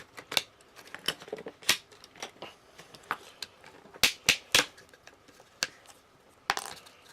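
Scored Lexan RC car body shell for an SCX10 II being snapped apart by hand, heard as a string of sharp, close cracks and clicks spaced irregularly, some louder than others, with no talk.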